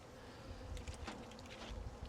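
A small honeybee swarm buzzes softly at close range during capture in a truck bed, a faint continuous drone with scattered individual wingbeats flitting past, no voices.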